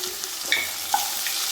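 Sliced onion and three slit green chillies frying in a pan while making malai chicken, a short steady close-up sizzle with a couple of light clicks.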